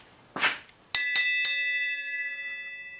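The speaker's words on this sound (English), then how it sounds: "so I'm gonna go ahead and ring the bell" A bell is struck three times in quick succession, bright metallic dings that ring on and sustain into a long fading tone, preceded by a brief rustling noise.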